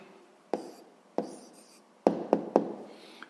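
Pen strokes on paper as a math answer is written down, a few quiet scratchy bursts with pauses between them, close and alone with no talk.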